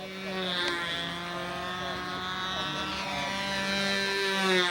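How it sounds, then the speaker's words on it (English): A radio-controlled U Master model airplane flies in the wind, its small propeller engine droning steadily with a rising and falling whine as it passes, loud and continuous. "Peter's putting in a pretty nice flight here"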